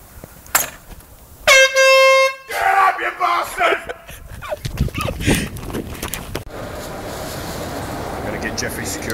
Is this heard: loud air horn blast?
yes